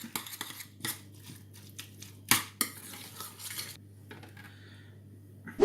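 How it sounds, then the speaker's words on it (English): A utensil stirs butter and pepper into a dish of food for pork and smashed potatoes, giving quiet scrapes and several sharp clinks against the dish, alone without talk. "and a little pepper, and we'll mix all that up"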